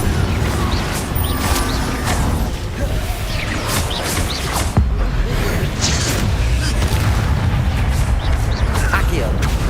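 Blasting Confringo spell explosions in Hogwarts Legacy, booming impacts and crashes packed into dense game combat noise, heard under steady spoken spell calls.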